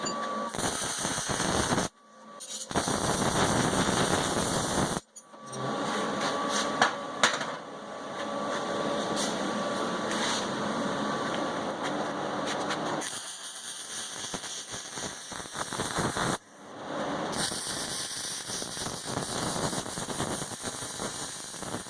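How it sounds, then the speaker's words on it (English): Welding on the front driveshaft of a 1989 Chevy mud truck, a loud, crackling, sputtering hiss in long runs broken by short pauses, close and without talk. "we're gonna go ahead and weld it in there"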